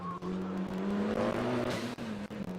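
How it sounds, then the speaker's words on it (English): A turbocharged Mitsubishi Evo race car accelerates at a hill-climb racing event, its engine note rising steadily and fairly close, a sustained loud drone with brief dips as it climbs, no voices over it. "I hear boost. Oh, I know it's an Evo."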